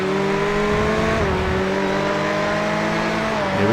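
Simulated GTE race car engines at Sebring in iRacing, loud and continuous, with steady high-pitched engine tones that shift as a Ford and Ferrari battle close together through the corners.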